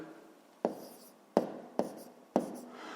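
Handwritten numbers from a fifth-grade maths exercise, a pen or pencil scratching on paper in four short strokes with soft pauses between them, quiet and close.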